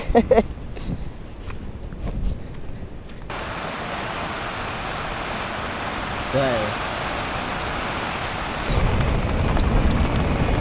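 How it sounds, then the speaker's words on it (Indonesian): Rain falls steadily during cloudy weather on a coastal rock-fishing trip at Gunung Kidul, Yogyakarta, a constant close hiss that grows louder toward the end, with brief handling knocks at the start. "Masih hujan, kondisi cuaca mendung, hujan, mantap ini."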